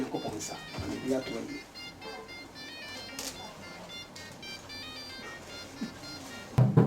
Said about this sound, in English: cell phone rang